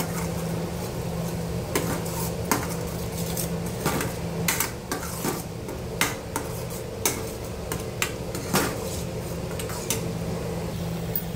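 Turmeric, coriander powder, garam masala and ghati masala being sautéed in a pan for a cowpea and potato curry, with repeated sharp clicks of a spatula against metal over a steady low background hum.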